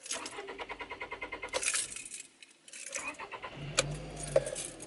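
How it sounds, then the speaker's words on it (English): A car engine cranks and starts with a key, preceded by jangling keys, then a brief low whir of the starter and engine catching near the end, close and moderately loud, no talk. "And first I start this my car."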